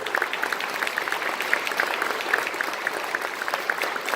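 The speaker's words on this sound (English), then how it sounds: "please give them a big round of applause also." Audience applause at a college concert band's December concert, a steady, even wash of clapping that stays moderately loud and continuous throughout, with no talking over it.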